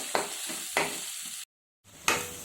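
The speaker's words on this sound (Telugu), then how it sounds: "పచ్చిమిర్చి ముక్కలు కూడా వేసి బాగా ఫ్రై చేసుకుందాం." Onion and green chilli frying in a pan while being stirred, with soft steady sizzling broken by three scraping stirs of a spoon and one brief silent gap.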